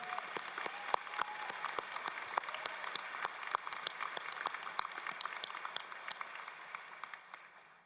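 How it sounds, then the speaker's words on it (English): Sparse, fairly distant clapping at a college convocation ceremony, individual claps distinct and irregular, thinning and fading toward the end. "Let's give a warm round of applause for everybody that supported you."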